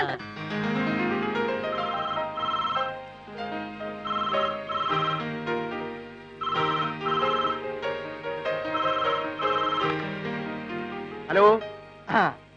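A melodic telephone ringtone plays at steady volume for about twelve seconds, its repeating notes carrying through the room before fading near the end.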